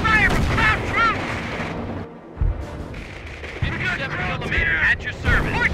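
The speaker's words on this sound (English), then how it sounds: "Position under fire from cloud troops!" Gunfire and artillery boom through a battle in the real-time strategy game Company of Heroes on the Mortain map, with rapid shots and heavy blasts loud and close, interrupted by shouted unit voice lines.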